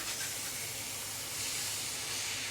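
Minced pork with fermented fish paste and chili sizzles as it is stir-fried until dry in a pan for nam prik narok. A close, steady hiss runs throughout.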